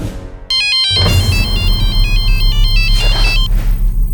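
A telephone rings loudly and close after a brief dramatic swell, a repeating electronic ringtone pattern over a low rumbling music bed in a crime drama, with no talking.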